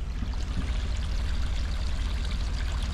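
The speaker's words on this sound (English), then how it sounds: "All that water comes from that old logging road right there and just floods right down in here." Water runoff from an old logging road pours steadily through a culvert in the woods, a continuous close rushing and gurgling that holds even for the whole stretch, with no voices.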